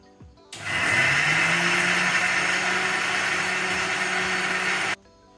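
A kitchen mixer grinder grinds soaked rice into dosa batter, a loud steady whirring motor that starts abruptly, runs evenly for about four seconds and cuts off, with no talk.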